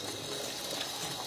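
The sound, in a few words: automatic faucet running water at an airport restroom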